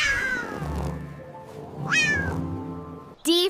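A cat meows several times, drawn-out and close, ending with a sharp, higher meow.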